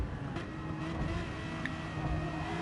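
BMW Gr.3 race car engine in a racing game at a Tokyo circuit, a steady loud droning hum held throughout with no pauses.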